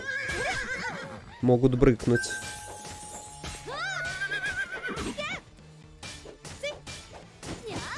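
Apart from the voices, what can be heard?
horses neighing in The Vagrant video game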